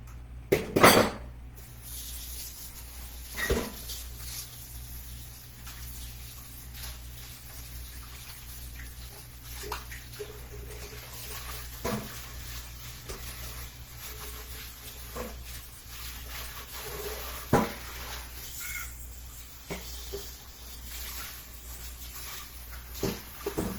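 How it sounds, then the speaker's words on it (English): Water running in a kitchen sink while a mixing bowl is rinsed and scrubbed, with intermittent clinks and knocks of the bowl against the basin over a steady low splash. "I gotta wash my mixing bowl so I can do the icing."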